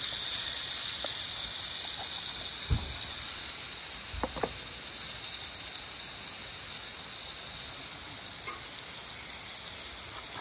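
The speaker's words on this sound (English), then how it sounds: "Blueberry banana pancakes and the griddle." Blueberry banana pancakes sizzle in real butter on a griddle, a constant close hiss with a couple of brief clinks from the cook, no talking.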